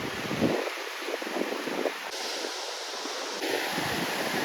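Sea waves at Kovalam beach, with broad rushing surf and wind buffeting the microphone, the wash swelling and easing in soft irregular surges.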